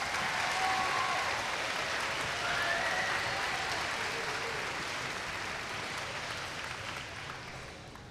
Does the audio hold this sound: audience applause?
yes